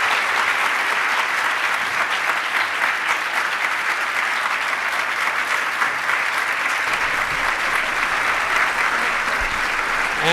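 A large conference audience at a CEO summit in New York gives a full, sustained round of applause, dense and even for about ten seconds with almost no talk.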